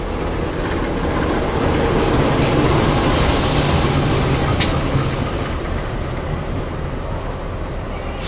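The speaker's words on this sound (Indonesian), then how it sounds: "salah satu kereta api jarak menengah kelas full ekonomi dari stasiun Tanjung Balai menuju ke stasiun Medan" A medium-distance, full economy-class train from Tanjung Balai to Medan rolls into Tebing Tinggi station, a loud, steady rumble of wheels on rails with a faint squeal and a brief sharp clank partway through.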